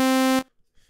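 Massive synthesizer oscillator playing a loud, buzzy sustained tone with the filter engaged, rich in harmonics, cutting off abruptly after less than half a second into near silence.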